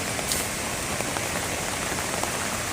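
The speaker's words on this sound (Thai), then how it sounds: "ทั้งฝนทั้งเสียงน้ำตกปนกันไป" Heavy rainy-season rain pours steadily on a tent campsite beside the roaring Pha Daeng waterfall at Rai Jom Phran, Thong Pha Phum, a dense, loud, unbroken hiss with scattered distinct drop taps and no voices.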